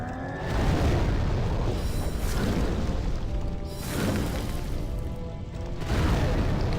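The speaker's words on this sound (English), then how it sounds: "More explosions." Repeated booming explosions during a Demon's Souls boss fight with lava pools, a dense, loud rumbling wash of blasts that swells and recedes across the clip without speech.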